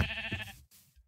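A sheep in the Minecraft video game gives one short, wavering bleat, loud and close, followed by a brief quieter tail of game sound.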